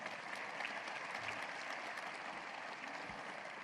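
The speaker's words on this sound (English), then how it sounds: "Now, that deserves a round of applause as well." Applause from an audience at a university State of the University address, a dense steady clapping that fills the whole stretch at moderate level with no talk over it.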